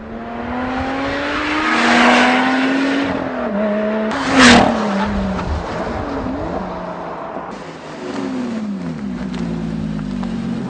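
A Lotus Exige S with its V6 engine laps a track, revving hard through rising and falling pitches across several gear changes, with a sharp burst midway and tire noise, loud and close throughout.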